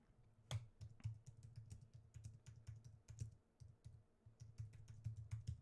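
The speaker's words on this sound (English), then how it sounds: "I'm just going to type into Google here" Typing on a computer keyboard, a quiet run of quick irregular key clicks recorded close by.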